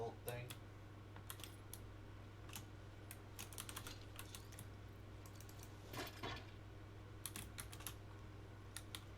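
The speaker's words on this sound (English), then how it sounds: "your keyboard's loud." Loud computer keyboard typing during a live online game session, rapid bursts of clacky keystrokes scattered across the clip over a steady low hum, with voices talking faintly at times.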